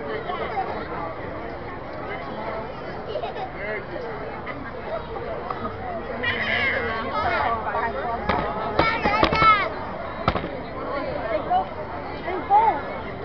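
Independence Day fireworks burst in the distance in 2023, heard as scattered muffled pops and crackles beneath nearby people talking almost throughout, with the densest bursts late in the recording.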